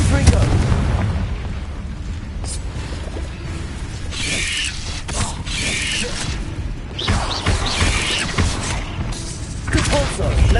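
Fiery Confringo spell blasts in Hogwarts Legacy, set in a cave, bursting repeatedly as booming explosions over continuous game ambience, loud and close, with a voice speaking over the action.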